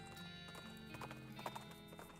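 A horse in the West of Loathing video game trots off with a brisk, steady clip-clop of hooves over a quiet musical backdrop.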